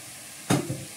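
Raw mustard oil poured into a hot pan of food: a single sudden sizzle that bursts up and then settles into a softer hiss within a second, close and with no voices.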